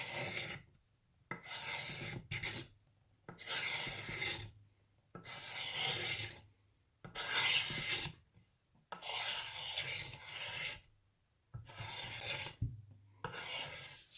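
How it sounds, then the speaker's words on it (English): An axe blade scraping varnish off a wooden axe handle, rhythmic rasping strokes in repeated bursts of about a second each with short pauses between, close and clear with no talk. "So as you can see here, I've now scraped off all that varnish that came with it from the manufacturer."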